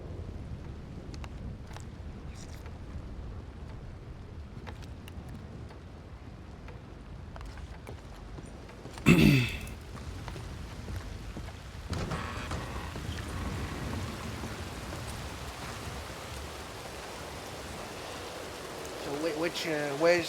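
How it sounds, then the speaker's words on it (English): Thunderstorm ambience from a Wild West video game, with a sudden loud crack of thunder near the middle, then a steady wash of rain and rumble at a fairly quiet, even level. "storm sounds are way too loud."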